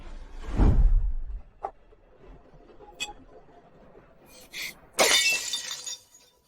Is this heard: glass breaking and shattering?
yes